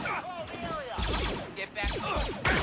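Blaster gunfire in the video game Star Wars Outlaws, rapid bursts of shots with sharp attacks crackling over one another, loud and close, mixed with in-game chatter and action.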